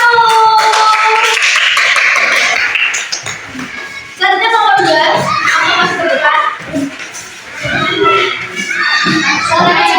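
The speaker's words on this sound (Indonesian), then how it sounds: "Tepuk tangan buat kelompok 1." A fifth-grade class of children bursts into a loud round of clapping for group 1, sustained for about three seconds before children's voices and chatter take over for the rest of the clip.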